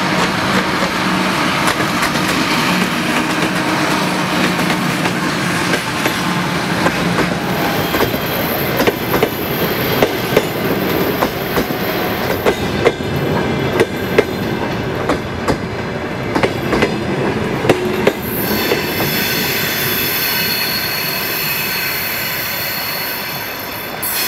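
A freight train rolls past on an electrified railway line, a long, loud rumble with rhythmic clickety-clack of wheels over rail joints and high wheel squeals rising partway through.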